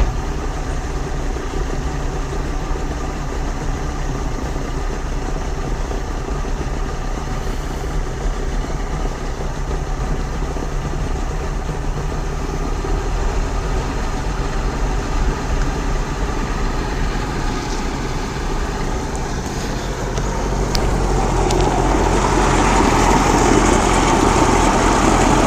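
Two-stroke outboard boat engine running steadily at idle after a fuel tank restoration, a constant close engine drone that rises in pitch and loudness as it revs near the end, with no voices.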